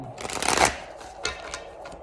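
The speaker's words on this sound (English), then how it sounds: "Let's give us one more shuffle here," A deck of tarot cards riffles in a quick shuffle, a fluttering burst followed by a few softer taps and slides.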